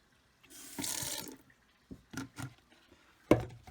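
White glue mixed two parts to one with water for papier-mâché, with water poured in from a small container: a short splashy pour followed by a few quiet drips and one sharper knock near the end.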